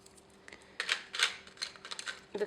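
A colored pencil lightly rubbing on printing paper in red, soft scratchy strokes in a few short bursts, quiet and close, with no voices.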